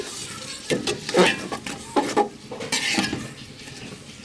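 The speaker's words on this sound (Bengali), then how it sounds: "আমি ভালো করে চাউলটা নেড়ে নেব চাউলটা ভালো করে ভেজে নিয়েছি" Rice being stirred and fried in a metal pot for khichuri, with a spoon scraping and clinking against the sides in irregular bursts over a faint sizzle.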